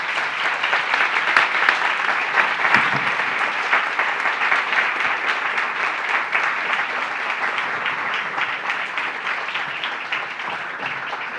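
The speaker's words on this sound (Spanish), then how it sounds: "Un aplauso muy fuerte para ellos." An audience breaks into loud, sustained applause, with dense clapping that holds steady and only fades a little toward the end. No one speaks over it.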